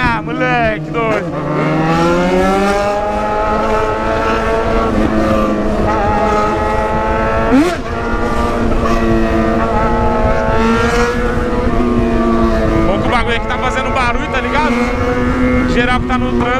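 A car revs and accelerates in a parking lot, its engine note loud and close, holding a strained, steady drone that climbs and dips, with brief shifts and a voice shouting over it.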